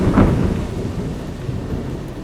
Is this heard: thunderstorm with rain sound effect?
yes